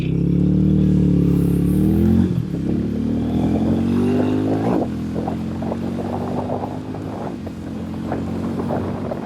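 A Hero Mavrick 440 motorcycle cruising at about 100 km/h, its engine droning steadily under heavy wind rush, with pitch shifts as the rider changes speed, constant and close to the microphone.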